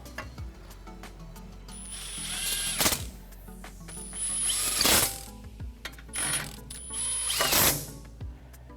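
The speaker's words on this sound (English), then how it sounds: "with a 1/2 inch socket and an easy impact, take the 3 bolts off" A compact impact wrench with a 1/2 inch socket whirs and rattles in several short bursts, taking out three bolts from a spindle plate on a classic 1962-1987 Chevy C10, close and fairly loud.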